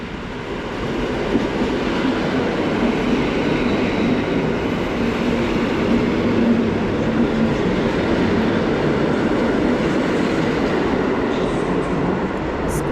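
An EN71 electric multiple unit, unit EN71-001, passes close by at Kraków Główny station with a loud, sustained rumble and rail roar that holds steady and fills the whole stretch.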